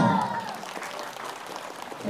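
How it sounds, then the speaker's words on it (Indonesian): Audience applause at a speech, a steady wash of clapping that follows a brief trailing voice at the start and holds at moderate loudness. "Tepuk tangan."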